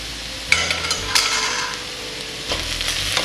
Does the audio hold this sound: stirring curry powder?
yes